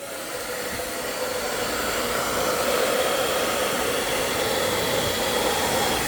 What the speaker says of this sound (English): Let's see what it looks like when I go to push it with this blow dryer.